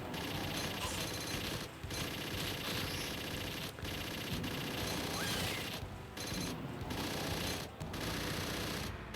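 Rapid bursts of gunfire from an Aliens arcade shooter as the player blasts aliens and clears mines, a dense continuous barrage with brief gaps, loud and close with busy game effects.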